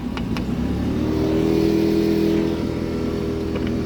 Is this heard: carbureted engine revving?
yes